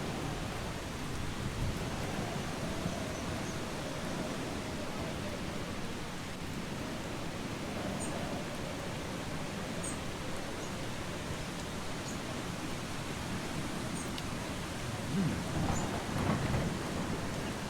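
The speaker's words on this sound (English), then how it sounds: "I guess we'll stay out in this horrible rain." Steady rain with rolling thunder fills the outdoor world of the game Eastshade, a dense continuous wash of downpour holding level throughout, with a few faint higher ticks scattered over it.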